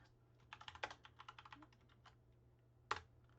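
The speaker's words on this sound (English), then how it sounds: "I don't know why I'm typing to you, Jess." Quiet keyboard typing: a quick run of light keystrokes, then a pause and one sharper key press.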